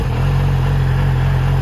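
A 2008 Yamaha R6 sport motorcycle engine runs steadily close by, a constant loud mechanical drone with no rises or breaks and no voices.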